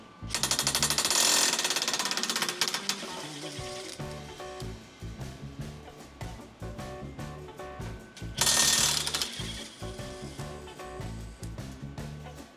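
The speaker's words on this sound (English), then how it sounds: "We're gonna remove these two bolts here." An impact tool with a 16mm socket hammers out factory bolts under a Mercedes Sprinter van. It makes two loud, rapid rattling bursts close by, each followed by a lighter, sputtering run of the tool.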